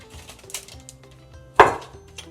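Sticky chocolate peanut butter mixture is scraped and plopped into a parchment-lined baking pan, a few soft scrapes and taps followed by one sharp knock of a utensil against the pan.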